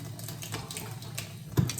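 Two tablespoons of water being poured into the bowl of a Pampered Chef Deluxe stand mixer, a faint, brief trickle over a low background hum, with a slightly louder splash near the end.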